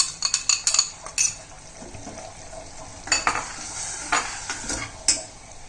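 Cashew paste being stirred into cooked masala in a pan for palak paneer, with a spoon scraping and clinking against the pan in short, irregular bursts over a soft background sizzle.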